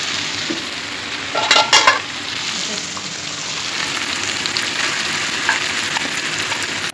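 Chicken for biryani sizzles and fries loudly in a pan, with a few sharp scrapes of stirring near the start and a steady hiss continuing throughout.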